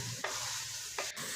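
Boiled chana dal is stirred into a bottle gourd curry in a pan, with a steady sizzle running throughout and two sharp scraping stirs standing out, close and loud.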